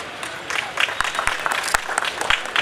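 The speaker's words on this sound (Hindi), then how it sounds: "तालियां बजती रहनी चाहिए" Audience applause at a building and construction expo, a crowd clapping steadily with several sharp, distinct claps standing out near the front.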